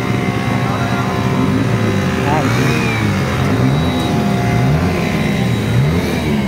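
Carbureted Suzuki Raider 150 motorcycles racing, their engines droning loudly and steadily with pitch repeatedly rising and falling as they rev through gears, close by and continuous.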